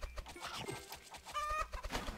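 Chickens cluck in the Roblox game Egg Farm Simulator, a few soft, brief bird calls mixed with quiet game sounds.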